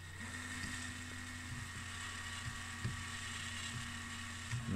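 Small drill boring out the base post of a Matchbox ISO Grifo model car, a steady whining motor hum with a constant pitch and faint clicks as the bit bites, close by with no talking.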